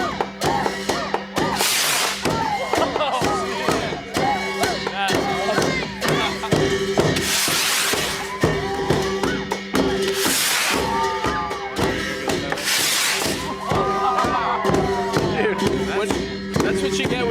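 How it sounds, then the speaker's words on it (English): Prayer rockets are lit during the finale of a Buddhist temple festival in Gansu, China, with a crowd pressed close. Several broad whooshing bursts rise over a steady murmur of voices and scattered shouts. "the festival reaches its finale, the lighting of prayer rockets"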